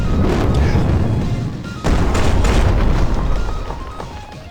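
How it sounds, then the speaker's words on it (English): A cartoon explosion blasts loud and near, a rumbling roar that swells, breaks into a second burst partway through, and carries on as a dense, sustained crash. "Whoa, what an explosion."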